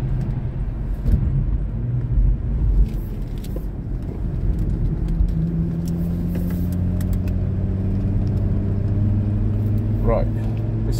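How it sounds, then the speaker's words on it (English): A car runs at about 65 mph on a race track, its engine droning steadily at close range with rising tones as it works toward a chicane, while a person talks over the noise. "Doing about 65 miles an hour now, but we'll go down a few gears into the chicane."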